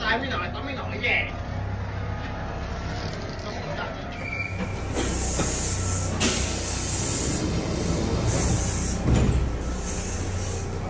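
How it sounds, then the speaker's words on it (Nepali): A train hums and rumbles at Kogane station in Japan, with hissing brakes and faint metallic squeals; people talk over the steady rolling noise. "यहाँतिरको ट्रेन फेरि बेग्लै रहेछ नि बेग्लै"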